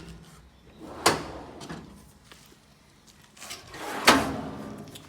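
A large bottom drawer on a Snap-on tool chest slides open or shut twice, each pass ending in a sharp metallic clack. The sounds are close and sit apart against a quiet room.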